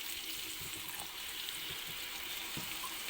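Water poured into a tajine of preserved lemons while it cooks, a steady broadband rush and splash running for about three seconds at close range, with no talking.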